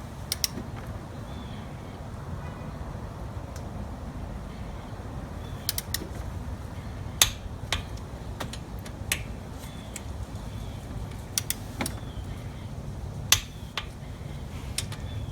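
Torque wrench tightening thin bolts on an LS1 water pump in a Nissan 240SX S14 drift build, sparse sharp clicks and creaks at irregular intervals, close and isolated against a quiet background with no talking.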